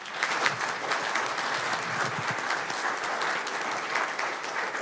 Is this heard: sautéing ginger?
no